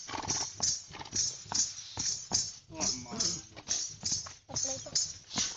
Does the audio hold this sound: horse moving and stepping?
yes